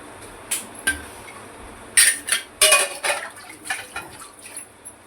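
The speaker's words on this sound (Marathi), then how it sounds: "चांगलं मस्त हलवून घेऊया" A spoon scrapes and knocks around a cooking pot of village-style vegetables with kokum and coriander, a run of clattering metallic strokes that grows busier and louder after the first few isolated taps.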